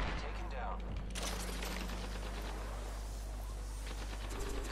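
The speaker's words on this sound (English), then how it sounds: "he's getting shot by another squad." Distant automatic fire crackles in Apex Legends as another squad exchanges shots, quick rattling bursts heard faintly over a steady game background hum.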